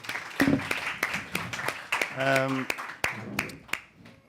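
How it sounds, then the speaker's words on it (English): Scattered audience clapping welcomes a photographer at a Night of Dictatorship event in The Hague, with distinct individual claps and someone speaking over the applause. "Please, a warm round of applause."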